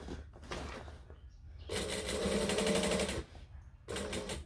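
A sewing machine stitches a book bag backpack in short, rapid runs, its whirring needle stopping and starting in close bursts with brief pauses between.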